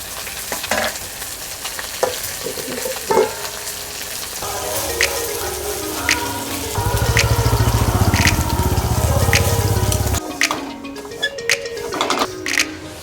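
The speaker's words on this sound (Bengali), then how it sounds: "তরকারিতে জল দিয়ে দিচ্ছি" Water goes into a vegetable curry simmering in a pan, giving a steady close sizzle and bubbling that swells for a few seconds, with scattered stirring clinks and utensil taps and no talking.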